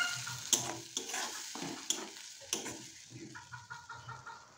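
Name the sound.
stirring pointed gourd puree with ginger and chili in pan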